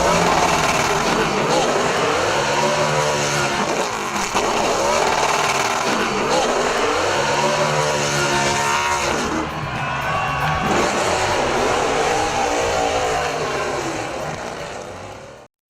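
V8 Supercar race car engines at Interlagos roar loudly and steadily with rising and falling revs, close and continuous, overlapped by a commentator's voice throughout.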